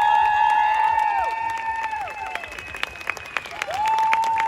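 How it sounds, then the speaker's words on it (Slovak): Applause for a dance group at a dance show, a dense clapping crowd mixed with sustained whistles and cheers, with some speech underneath. "Obrovský potlesk pre nich ešte raz."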